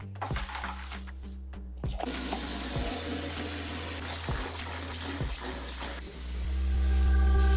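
Water runs from a tap into a bucket to make a soap solution, a close, continuous rushing gush that rises in pitch and fullness toward the end as the bucket fills, heard alone.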